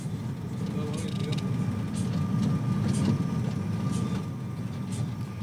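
A steady low rumble of a train running, with faint rhythmic clicks over the top and no clear pauses.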